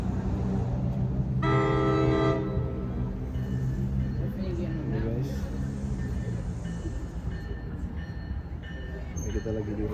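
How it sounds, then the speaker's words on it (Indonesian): Commuter train at Rahway Station in New Jersey sounds a loud horn blast early on, then a steady rumble of rail cars rolls on. A person talks faintly in the background. "Keretanya bakal datang dari sono dan kita bakal ke arah sono."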